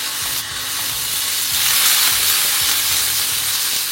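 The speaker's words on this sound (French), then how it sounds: "Dès que notre poêle est chaude, on va faire dorer le roast beef." Roast beef browns in olive oil in a hot pan, giving a loud, steady sizzle of frying with a bright, continuous hiss throughout.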